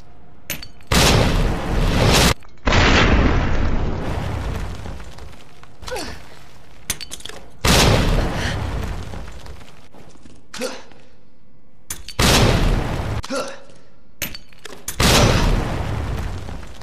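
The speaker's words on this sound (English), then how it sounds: "Explosions." Hand grenades burst one after another in Resident Evil 2 Remake, several loud booming blasts with crackling debris tails, separated by short gaps of quieter rumble and thuds.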